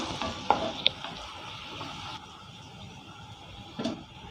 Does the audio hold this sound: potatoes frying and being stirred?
yes